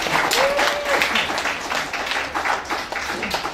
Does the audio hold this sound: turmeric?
no